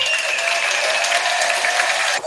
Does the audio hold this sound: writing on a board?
no